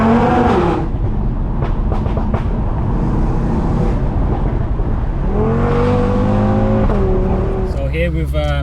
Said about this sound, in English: This is the best way to get 5-cylinder sound in the speed limit.